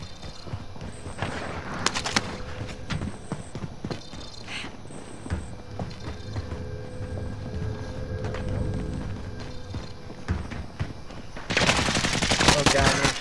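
Gunfire in the shooter game Call of Duty: Modern Warfare, with rapid machine-gun bursts and scattered shots crackling throughout, under radio-style voice callouts, swelling into a louder, denser barrage near the end.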